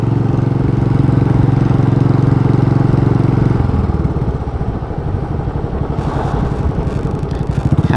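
Royal Enfield Bullet 500 motorcycle ridden through a two-inch-deep puddle, a loud close single-cylinder thump that drops in pitch midway, followed by a brief hiss of splashing water.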